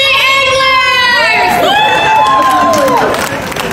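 A small group of five women in matching shirts chant a cheer together at a gala, loud and close, with several voices rising and falling in unison over a few seconds.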